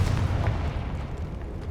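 A Confringo blasting curse explodes in Hogwarts Legacy, one deep booming blast with a rumbling low-end tail that fades over about two seconds, heard alone.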